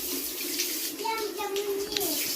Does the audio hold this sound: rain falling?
no